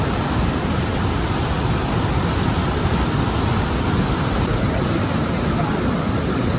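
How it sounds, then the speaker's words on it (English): Upper Falls of the Yellowstone River roaring in a steady, dense broadband rush, loud and unbroken throughout with no pauses or distinct splashes. "Wow, what a waterfall."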